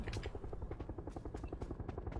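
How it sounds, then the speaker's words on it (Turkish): Helicopter from the PUBG battle royale game, its rotor thumping in a fast even pulse, fairly faint and distant as it approaches, with no talking over it. "Helikopter geliyor."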